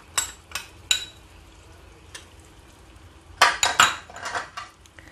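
A spoon scrapes and clinks against a pan while stirring banana, jaggery and grated coconut for pazham nurukku, with a few scattered knocks early on and a busier burst of stirring near the end.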